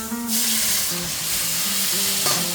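Water poured into a hot pan with prawns gives a loud, continuous hissing sizzle that holds steady for a couple of seconds.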